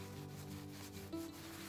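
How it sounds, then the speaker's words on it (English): A soft cloth burnishes a handmade coaster, giving a faint, steady rubbing hiss for under two seconds with no talk. "Burnish with your soft cloth."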